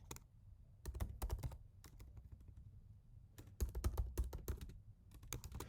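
Quiet bursts of typing on a computer keyboard, quick clusters of light key clicks separated by short pauses, close and alone.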